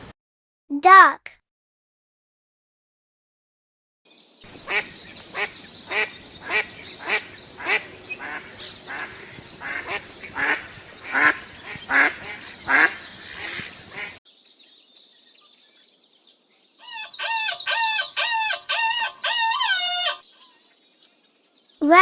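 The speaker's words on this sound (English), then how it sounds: "Duck." A farm duck quacks steadily in a long, rhythmic series of close nasal calls, with a single call before the run and a quicker, higher burst of chattering quacks near the end.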